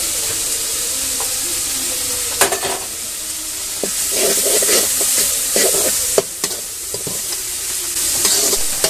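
Ginger garlic paste and grated onion fry in hot oil for a mutton curry, a steady broadband sizzle with intermittent scraping and clacking of a stirring spoon against the pan.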